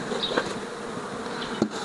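Honeybees buzz steadily and close by around mini nucleus beehives, a dense continuous hum with no voices.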